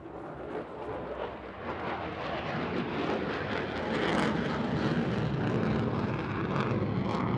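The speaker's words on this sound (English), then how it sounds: "This demonstrates the maneuvering capabilities of the F-35C at low speeds and high angles of attack." Fighter jet F-35C flying a low-speed, high angle-of-attack pedal turn, a loud continuous engine roar that swells slightly as it passes, steady and alone with no talk.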